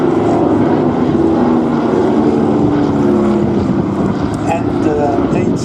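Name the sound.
Beech 18 aircraft radial engines, Pratt & Whitney 985s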